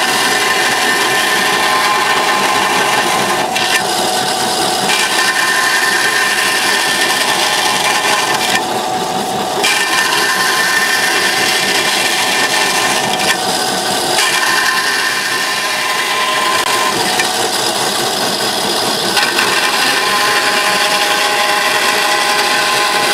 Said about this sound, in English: A bandsaw? Yeah. Sorry, bandsaw.